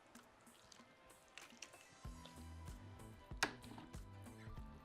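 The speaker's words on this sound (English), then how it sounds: "So we're going to start by pouring over half of this stock." Stock is poured over chicken in a compact tray, with soft liquid splashes and wet drips building up over several seconds, quiet and close, alongside a few small clatters.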